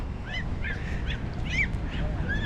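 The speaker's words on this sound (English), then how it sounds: "During the daytime there are many loud birds sitting on the ramparts." Loud birds on the ramparts of Galle Fort in Sri Lanka give repeated honking, squawking calls in short bursts over a steady background rumble, with no talk.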